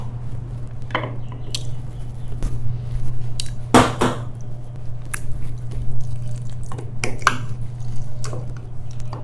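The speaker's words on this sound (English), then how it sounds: "So we are going to put this on a little dish" Homemade vegan basil pesto is scraped and spooned onto a small dish, with soft wet squishes, light clinks of a utensil against the dish, and scattered taps over a steady low hum.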